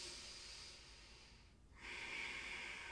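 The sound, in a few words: breathing during a yoga flow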